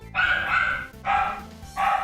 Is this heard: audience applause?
no